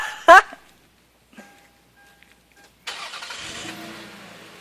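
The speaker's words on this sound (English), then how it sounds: "Okay, now you start your car." A car engine cranks and catches after a jump-start with jumper cables, a brief loud burst followed by a quiet pause, then the engine settles into a steady running hum.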